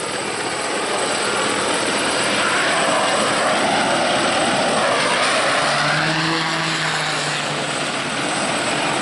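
A Bell 412EP helicopter departing, a loud continuous rotor and turbine roar with a steady drone that swells slightly and then holds, filling the whole stretch without any voices.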